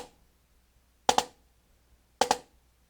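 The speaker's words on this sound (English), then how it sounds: "we lift the stick back off the head just as soon as you've done the first two strokes" Two quick double-stroke bursts on a drum head, each a pair of tight bounced snare-like hits, spaced about a second apart, crisp and close with silence between.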